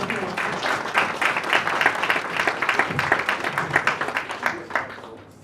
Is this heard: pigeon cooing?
no